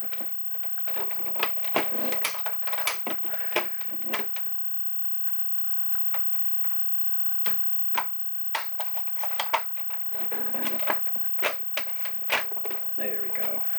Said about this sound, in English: so we're going to put a few screws in it